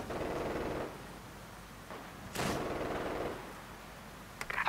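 Artillery barrage in the video game Company of Heroes 2, with several muffled booms and one sharper blast spaced irregularly over low battlefield rumble, moderately distant and not very loud.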